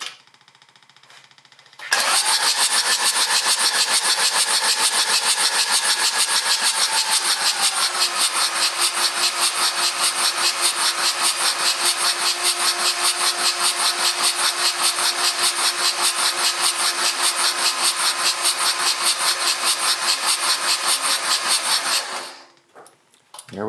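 A John Deere 755 tractor engine turns over and catches after a short quiet start, then runs loud and steady for about twenty seconds before shutting off abruptly.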